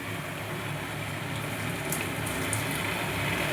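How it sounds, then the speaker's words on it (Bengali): Water poured into hot spiced oil in a pan while cooking okra, giving a steady, close gushing hiss and sizzle that holds evenly for the whole stretch with no voices. "এবার আমি এটার সাথে একটুখানি জল অ্যাড করব"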